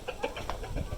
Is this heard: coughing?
no